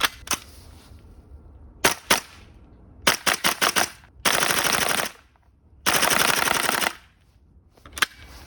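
Bursts of rapid gunfire from a Tokyo Marui MWS airsoft gas blowback rifle running a propane magazine: single sharp shots, a quick stuttering string, two long sustained full-auto bursts, then a final lone shot, loud and close.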